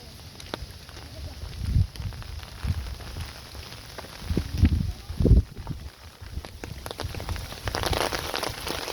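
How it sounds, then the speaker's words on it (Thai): Steady rain patters outdoors in a park, with scattered louder drips and soft thumps over a constant wash of noise. "มาแล้ว มาแล้ว มาแล้ว ฝน"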